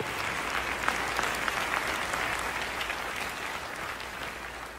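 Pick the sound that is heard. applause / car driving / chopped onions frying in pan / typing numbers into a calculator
applause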